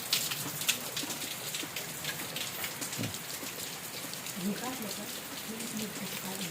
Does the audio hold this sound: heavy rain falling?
yes